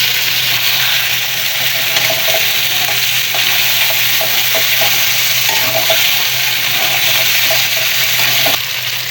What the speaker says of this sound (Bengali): এখন এই যে কাঁকড়াগুলো দিয়ে দিচ্ছি